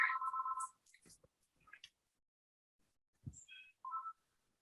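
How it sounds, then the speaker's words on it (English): A telephone rings with a brief electronic warbling tone, then after a pause a few short clicks and a pair of higher beeps sound faintly in a quiet room. "Did you hear the phone ring?"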